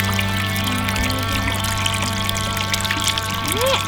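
Hot water pours steadily out of the outlet of a solar pool heater, a continuous splashing trickle over a constant low mechanical hum.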